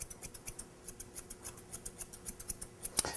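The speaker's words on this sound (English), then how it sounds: "these thinning shears are a lot more forgiving than a pair of straights or a pair of curves when you're going around this area" Thinning shears snip steadily through a dog's head hair during professional grooming, around the ear and chin, making rapid, regular close-up clicks about every fifth of a second, with no voices over them.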